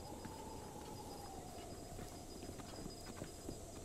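Steady rhythmic clip-clop of galloping horse hooves in the video game Breath of the Wild, close and continuous over a faint background hum.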